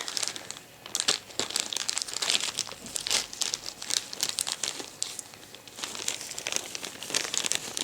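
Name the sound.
unwrapping gifts, wrapping paper crinkling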